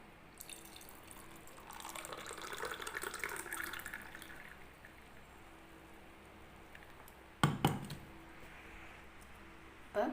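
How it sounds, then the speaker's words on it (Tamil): Homemade grape juice is poured into a glass, a steady liquid stream building and fading, followed by a brief sharp clink and splash near the end. "இப்போ ஜூஸ் அதில் ஊற்றிக்கலாம்"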